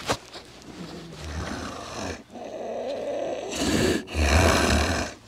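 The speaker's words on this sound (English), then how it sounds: "hear him snoring." A big sedated calf snores in deep, rough, rumbling breaths, each drawn-out snore close and fairly loud, repeating with short pauses between them.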